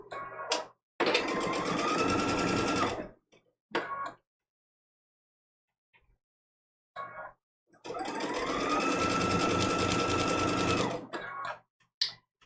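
A home sewing machine stitches small quilt-block seams through quilt batting at a 2.0 stitch length in two loud, steady bursts of several seconds each, separated by brief handling clicks and a quiet pause.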